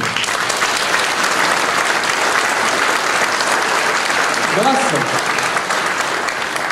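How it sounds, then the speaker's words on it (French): An audience at a 2016 New Year's address applauds project leader Patrick Lagarigue, sustained dense clapping throughout, with a brief voice rising above it. "Je voudrais que vous applaudissiez Patrick Lagarigue."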